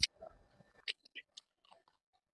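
Bites and chews into a crunchy brown sugar cookie with a molasses flavour: a sharp first bite, then several separate crisp crunches that fade off, close to the microphone and alone.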